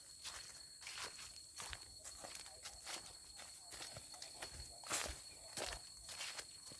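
Footsteps on a forest nature trail in Thailand's Chaiyaphum savanna country, a steady walking rhythm of soft crunching steps on leaves and ground, fairly close and moderately quiet.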